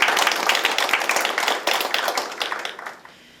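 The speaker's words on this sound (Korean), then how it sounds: "큰 박수 부탁드리겠습니다." Audience clapping at a policy forum, a burst of dense hand claps that fades out over a few seconds.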